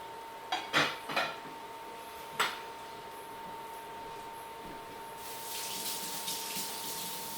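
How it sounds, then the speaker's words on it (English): Hands rinsed under a running kitchen tap, a steady gush of water at moderate distance with a few clattering knocks early on and the flow swelling brighter near the end, with no talk. "Now I'm going to rinse my hands off."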